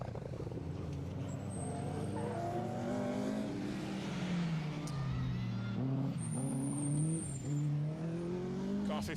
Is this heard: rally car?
yes